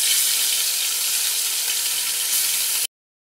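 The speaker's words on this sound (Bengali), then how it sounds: "আমার তেল গরম হয়ে গেছে, আমি এখন মাছ দিয়ে দেবো।" Fish sizzles and spatters in hot oil in a pan, a loud, steady, close frying hiss that cuts off abruptly.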